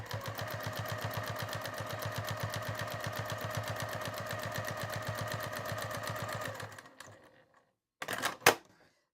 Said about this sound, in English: I'm just going to quilt straight lines just to keep all 3 pieces together